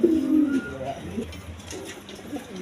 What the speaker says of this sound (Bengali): কবুতর গ্যারান্টি সহকারে নেবেন